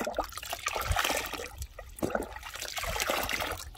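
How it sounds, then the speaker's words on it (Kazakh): Water is poured into a 10-litre batch to dissolve boric acid for spraying tomato plants, splashing and gurgling in uneven bursts at close range, with no speech. "10 литр суға құйып,"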